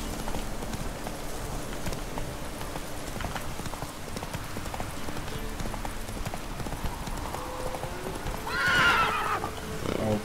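Galloping hoofbeats pound steadily under a busy soundscape from The Witcher 3: Wild Hunt, then a loud horse whinny rises near the end.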